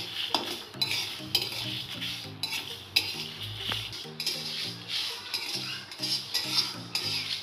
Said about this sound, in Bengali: তো আমার মশলাগুলি ভাজা হইয়া গেছে